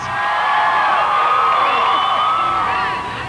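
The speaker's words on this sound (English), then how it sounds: "And the crowds are still cheering outside here" A large outdoor crowd cheers, shouts and whoops in a dense, loud, continuous roar with many overlapping voices.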